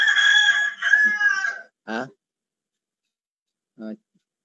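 A rooster crowing close by: one long, strained crow followed by two short, separate calls with silence between them, with no talk.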